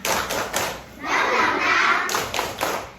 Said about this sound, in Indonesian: kita tepuk semangat baru dulu ya anak-anak